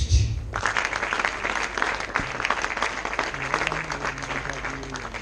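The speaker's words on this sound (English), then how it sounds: "Clap hands for our chief guest." Audience at a graduation awards ceremony claps for the chief guest, a steady, dense round of applause with a faint voice rising over it near the end.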